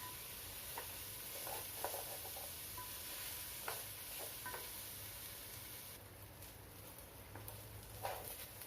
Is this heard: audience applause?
no